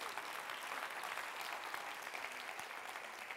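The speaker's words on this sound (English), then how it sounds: "if you guys could give a round of applause to the speakers before me" An auditorium crowd at a TEDx youth event gives a round of applause for earlier speakers: steady, even clapping from many hands that sounds faint and distant.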